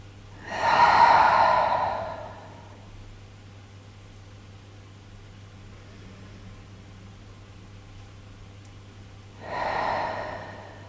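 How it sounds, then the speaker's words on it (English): Two slow breaths through the nose, a long airy inhale near the start and another rising toward the end, separated by a quiet stretch with a faint steady hum underneath. "take another inhale through the nose"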